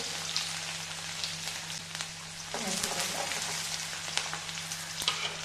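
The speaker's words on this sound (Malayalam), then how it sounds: "ഇഞ്ചിയും പച്ചമുളകും വെളുത്തുള്ളിയും കൂടെ ഇട്ട് അതൊന്ന് നിറം മാറുമ്പോൾ" Ginger, green chilli and garlic sizzle in hot oil for a beetroot pickle, a steady close crackle with small pops that thickens midway and carries on alone.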